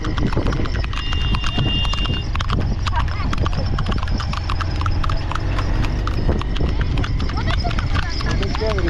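Horse hooves clip-clop steadily through a busy trading area in India on a motorbike trip toward Ladakh, with people talking and street bustle around them and an occasional faint whinny.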